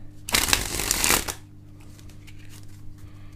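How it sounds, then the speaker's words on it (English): A deck of playing cards springing from one hand to the other, a single loud, rapid riffling burst lasting about a second, followed by faint handling noise. "the card will flick over that fleshy part of your hand and fly into the other hand"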